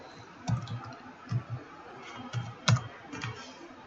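Computer keys clack in short, uneven clusters of a few taps, close and fairly soft against a quiet room, with no one speaking.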